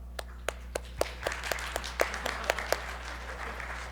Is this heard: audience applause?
yes